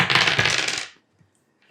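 Dice rattle and tumble across a tabletop during a miniatures wargame, a dense clattering burst lasting under a second, then near silence before a faint new rattle begins at the end.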